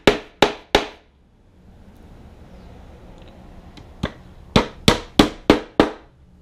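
Three sharp hammer strikes driving nails into carpet on a floor dolly, a pause with a low background rumble, then a quicker run of six hammer blows, close and loud.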